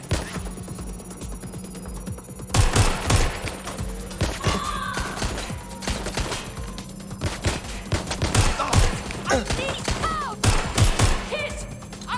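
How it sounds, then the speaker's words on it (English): Bursts of gunfire crack through a firefight in the video game Watch Dogs Legion, sharp shots and rapid volleys repeating over a steady background hum, with electronic chirps scattered between. "I'm getting shot at here."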